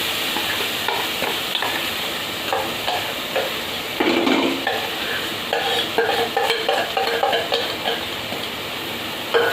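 Mashed potatoes are stirred into a sizzling spiced tempering in a pan, with a steady frying hiss under repeated scraping and clacking of a spoon against the pan, close and continuous.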